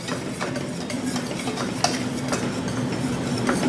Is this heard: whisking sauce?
yes